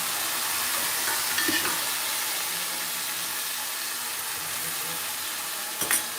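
Boiled mung beans sizzling in a hot frying pan for a Gujarati mag nu shaak, a steady hiss with a few scraping stirs and a sharp clatter near the end.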